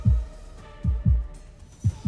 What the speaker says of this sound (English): My heartbeat is all I can hear as it's accompanied by a sharp burning pain.